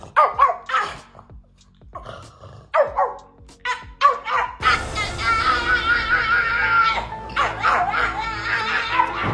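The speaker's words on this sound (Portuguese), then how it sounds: "o cão até começa bem, latindo como os outros fazem" A small dog yaps a few sharp barks, then breaks into a long, loud, rasping warble, an odd engine-like howl, with no one speaking.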